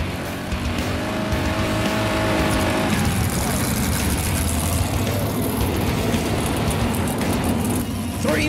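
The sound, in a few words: non-wing sprint cars racing on dirt speedway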